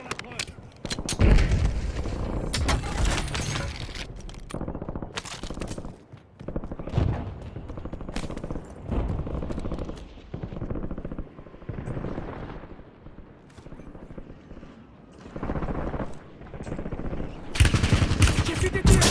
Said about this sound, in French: J'ai fait des tirs.